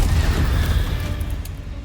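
A Confringo fire-blast spell explodes in the Hogwarts Legacy video game, a loud low boom that rumbles and decays over about two seconds with faint crackles.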